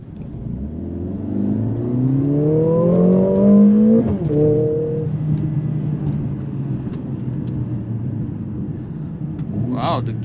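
A 2023 Mercedes-AMG GLA 45 SUV with a 382-horsepower engine and 8-speed automatic transmission accelerates hard, its engine note rising in pitch and then stepping down at a quick gear shift before pulling on steadily, with a voice speaking over the cabin noise.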